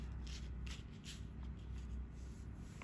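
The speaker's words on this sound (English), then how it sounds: "And then we just shuffle the deck again." A deck of game cards for the Skytear Horde board game is being shuffled, a steady papery riffle and rustle running for about three seconds, close and fairly quiet, with no talking.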